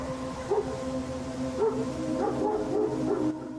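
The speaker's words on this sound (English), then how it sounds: "his dogs quickly pick up on it, barking incessantly" Dogs bark, yip and whine at night, picked up by a security camera over a steady electrical hum; the calls come in scattered bursts at moderate distance.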